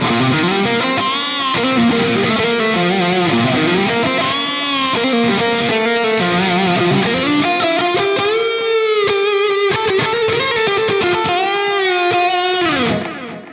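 Heavily distorted metal electric guitar played through the ML Sound Lab Amped Burger amp plugin, loud and continuous with sustained chords and shifting melodic lead lines for the whole stretch, ending abruptly, no talking.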